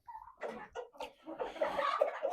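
Farmyard hens cluck in short, close bursts, a few choppy calls over about two seconds with brief pauses between them.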